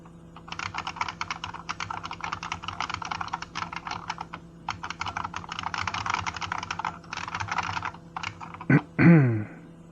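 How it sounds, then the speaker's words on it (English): Continuous rapid clatter of keys on an IBM computer keyboard, close and steady with a short pause midway, ending with a brief voice. "you know you're typing in the text editor, right?"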